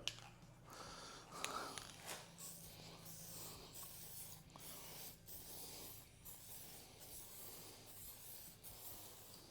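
Spray paint hissing from an aerosol can onto the front guard of a 101-year-old BSA motorcycle, a steady close hiss in uneven bursts with faint rubbing and handling noises between passes.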